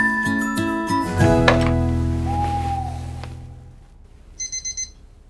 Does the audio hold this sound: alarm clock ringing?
yes